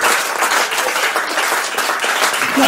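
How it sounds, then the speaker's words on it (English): Comedy club audience clapping for a stand-up act in London, a dense burst of close applause that runs steadily throughout with no talk over it. "that's the best clap I'm getting."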